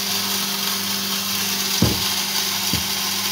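A home grain grinder milling grain gives a loud, steady whirring drone that runs throughout, broken by two dull knocks.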